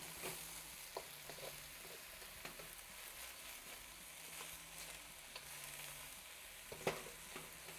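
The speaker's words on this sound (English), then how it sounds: "Maybe 3 to 5 minutes we're going to let this eggplant cook." Eggplant and sweet onion cook in oil in a pan, making a faint, steady sizzle with occasional soft clicks and taps from tossing.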